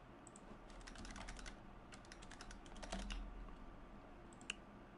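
Quiet, steady typing on a mechanical keyboard with Opera GX browser sound effects, soft rapid clicks in clusters over a low background hum, with a pause before a few final taps.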